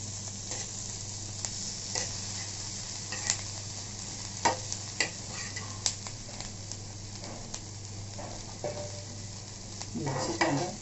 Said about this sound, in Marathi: मिरची कांदा भाजलेला आहे